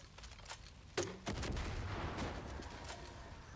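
Gunfire with incendiary ammo in the video game Far Cry 5: a few sharp shots near the start, then a sustained crackling, roaring burn that fills the rest of the clip at moderate loudness.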